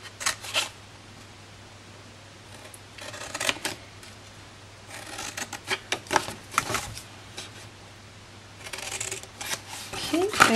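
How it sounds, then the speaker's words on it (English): Card for a partitioned gift box is cut along its score lines. Several short, crisp bursts of close, quiet cutting and rustling paper are separated by pauses over a faint steady hum. "The first thing we're going to do is cut up the score lines on either side."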